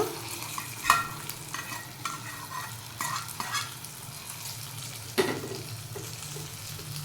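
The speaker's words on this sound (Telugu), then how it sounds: "ఇదంతా కూడా కూరకి ఆయిల్ అంతా కూడా చక్కగా పట్టేటట్టుగా కలిపేసుకుందాము." A spoon scrapes and turns a mix of three leafy greens through hot tempering oil in a pan, with occasional sharp clinks against the metal over a low, soft sizzle.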